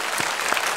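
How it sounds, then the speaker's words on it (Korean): A church congregation claps together during a Korean Sunday service, a short burst of dense, close applause filling the whole moment. "우리 축복 우리 축복 박수합시다"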